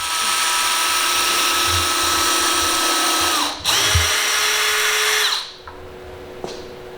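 A power drill drives screws into a 2x4 workbench base, whining steadily at high speed, then briefly stopping and restarting before the motor winds down and a final click, loud and close with no speech.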